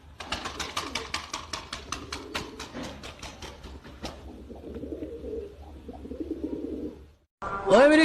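Fancy pigeons coo softly amid a flurry of wing flaps and rustling, with a low steady hum underneath, before a louder burst of noise at the end.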